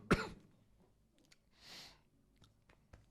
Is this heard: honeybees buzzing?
no